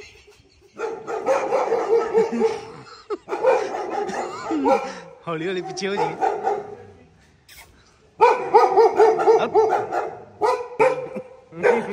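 Several dogs bark in short bursts while someone speaks over them, outdoors during an evening search for hotel rooms on a road trip from Nanded to Rishikesh.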